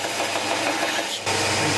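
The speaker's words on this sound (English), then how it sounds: "So I'm going to take this to the grinder and just radius off the edges of the bolster chisel" Bench grinder rounding off the edges of a steel bolster chisel, a loud steady grinding whir with rasping contact noise, close by, with a brief change in pitch near the end as the work shifts against the wheel.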